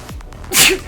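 A single sharp sneeze, close and loud, after a brief intake of breath, during a live Dota 2 esports match commentary.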